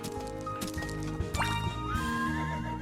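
Horse neighing loudly in a Horse Club Adventures video game, a long rising whinny over steady clip-clop hooves and game music throughout.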